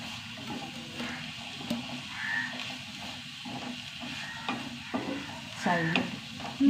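Finely chopped onions fry in oil with a steady close sizzle and bubbling, stirred now and then with soft scraping strokes that swell slightly toward the end; nobody talks.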